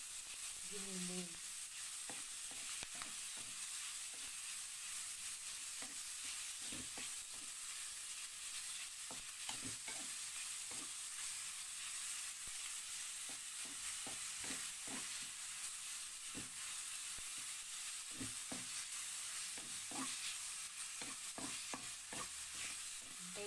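Ground chicken fries in a pan for eggplant sisig, a steady sizzle running throughout with repeated scraping stir strokes at an uneven rhythm, close and alone without talk.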